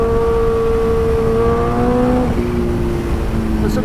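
A Kawasaki Ninja H2 engine revved hard nearby, a loud sustained roar whose pitch climbs, then drops sharply at a gear change and continues at a lower steady drone.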